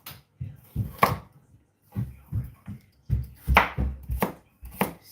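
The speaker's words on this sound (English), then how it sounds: "So just chopping up my carrots now" Carrots being chopped with a knife for a Nigerian meat pie filling: a run of crisp, close, irregular knife strikes on a board in small bursts, loud and without speech.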